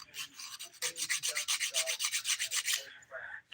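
A nail file rubbing across fingernails during a dip-powder manicure, about a dozen quick, even rasping strokes in a steady back-and-forth rhythm, close and clear with no voices.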